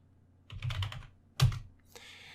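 Computer keyboard typed on briefly, a quick flurry of close key clicks followed by a single sharp keystroke and a soft trailing hiss.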